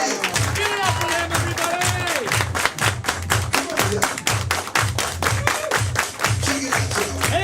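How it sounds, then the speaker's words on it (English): A crowd at a live main event breaks into sustained clapping and applause, dense and steady, with a thumping rhythmic beat underneath and faint shouts mixed in. "let's keep an applause going for all the volunteers that helped us out tonight"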